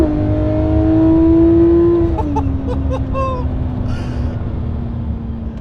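A Porsche 911 GT3 RS 991.1 engine screams at high revs as it accelerates hard onto a motorway, with the pitch dropping sharply at a gear change and settling into a loud, steady drone.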